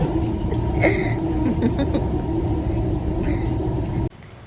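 Continuous low rumble and hum of a metro train in motion, heard from inside, with faint tonal whines before a sudden drop near the end.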